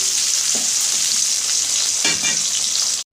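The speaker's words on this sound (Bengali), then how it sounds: "মাঝারি একদম ছোটো পেঁয়াজ দিলাম, দিয়ে ভালো করে আগে আমি ভেজে নিই" Small chopped onions sizzle steadily in hot oil in a village-style Bengali curry pan with whole spices, bay leaf and pepper, a constant bright hiss with a few stirring scrapes.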